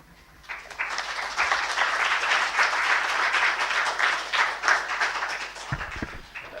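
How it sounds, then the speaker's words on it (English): An audience gives a panel discussion on masculinities, peace and violence a round of applause that starts up quickly, holds steady for several seconds, then tapers off. "I'd like to get just another quick round of applause for the entire panel."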